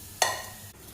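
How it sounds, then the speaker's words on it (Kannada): Garlic, mustard seeds, asafoetida and curry leaves hit hot oil with a sudden loud sizzle that surges at once, then fades slightly as it crackles on for under a second. "ಬೆಳ್ಳುಳ್ಳಿ, ಸಾಸಿವೆ, ಹಿಂಗು, ಕರ್ಬೇವಿನ ಸೊಪ್ಪು ಒಗ್ಗರಣೆ ಕೊಟ್ಟೆ"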